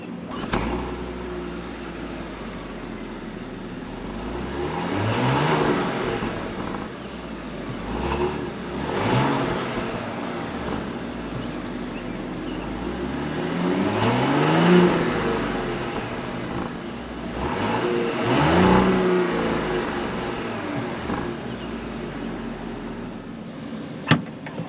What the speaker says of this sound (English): an acceleration test on this 3-liter V6 to see if it's enough power for this pretty large